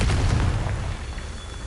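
A Confringo blasting spell bursts in a Harry Potter video game, one loud booming explosion with a heavy low rumble that slowly fades over under two seconds.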